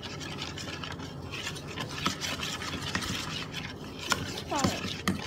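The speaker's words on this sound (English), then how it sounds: "And we stir it again." A mixture being stirred in a bowl makes rough, repeated scraping and rubbing strokes, close and uneven, with a few sharper scrapes near the end.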